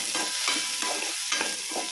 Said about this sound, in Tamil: தக்காளி நல்லா எண்ணெயில் சுருண்டு வதங்கி வரட்டும்